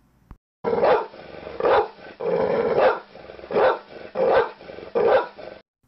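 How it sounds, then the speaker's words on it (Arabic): A dog barks in a series of loud, close barks, about six bursts with short pauses between them, with no talking. "ما هذا الصوت يا صغاري أحسنتم إنه صوت الكلب"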